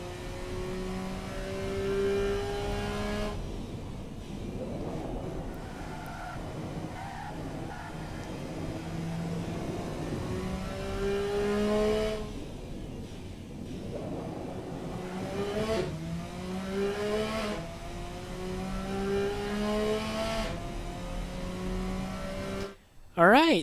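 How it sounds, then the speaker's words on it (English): Inline-three supercar in a racing game accelerating through several gear changes, engine pitch climbing repeatedly in steady loud sweeps, with a person talking over it. "that's the car with the inline 3 engine"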